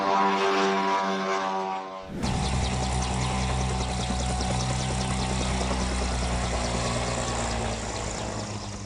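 A homemade propeller plane's small engine starts abruptly like an old generator, then roars steadily at close range with a buzzing drone, holding loud throughout as it runs up and takes off.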